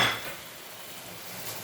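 Capsicum masala, with capsicum and tomato, is stirred in a pan with a faint spoon-on-pan clink at the start, then quiet scraping and low sizzling.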